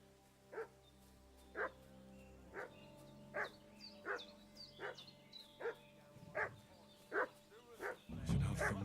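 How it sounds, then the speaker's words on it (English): A dog barks repeatedly in Kingdom Come Deliverance II, about a dozen evenly spaced barks at moderate distance against quiet ambience, with a louder rumble near the end. "What's that dog making such a fuss about?"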